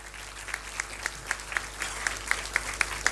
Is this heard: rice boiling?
no